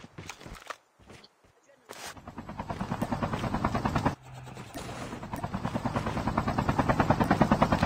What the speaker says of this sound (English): Bro, this heli is bouncy.